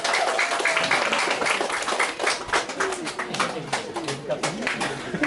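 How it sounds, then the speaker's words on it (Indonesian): Audience applause at a school arts performance welcoming a senior high school choir, a steady mass of clapping lasting several seconds, with voices and whistles mixed in. "Kita beri tepuk tangan dulu Bapak Ibu."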